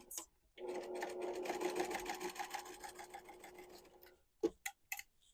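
A sewing machine stitching a quilted book sleeve at a quarter-inch seam, running as a fast, steady mechanical whir for a few seconds and then stopping, followed by a few sharp clicks.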